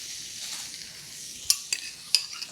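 Berry juice hitting a hot pan for baked brie gives a soft, steady sizzle, with a few sharp clinks of utensil against the pan cutting through near the end.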